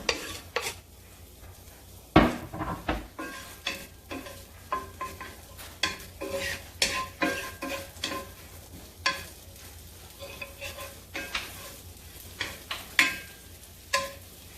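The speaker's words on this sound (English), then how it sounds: "Let's saute the garlic and the onions first." Garlic and onions sauté in olive oil in a pan, a soft sizzle beneath frequent close scraping and tapping spatula strokes, irregular and fairly quiet.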